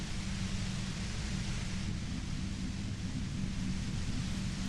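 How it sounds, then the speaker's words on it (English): Dense, steady white-noise static from the Disco Elysium video game, a loud unbroken hiss filling the whole stretch with no speech. "You hear through the white noise. It's especially bad suddenly."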